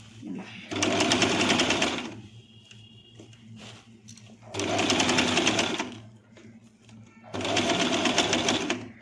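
A sewing machine stitches a small lehenga made from a chunri, running in three rapid, even bursts of about two seconds each, separated by quiet pauses, while someone talks.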